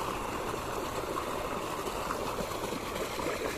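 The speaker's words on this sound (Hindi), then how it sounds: "ये जो पानी आ रहा है ये कहाँ से आ रहा है, ये वाटर सप्लाई है" Water from a supply pipe pours into a pool in a garden, a steady rushing and gurgling stream heard close and continuous without any talking.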